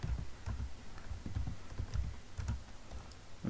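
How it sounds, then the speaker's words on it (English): Password typed on a computer keyboard, a quick uneven run of soft close keystrokes and taps with no talking. "and type the password."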